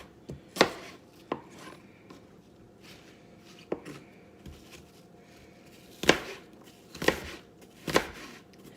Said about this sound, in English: And then I like to just chop it up so we have a little bit smaller pieces.